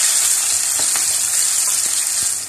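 Garlic, rosemary and chopped onion fry in hot oil for spaghetti, giving a loud, steady, close sizzle that holds throughout with no voices.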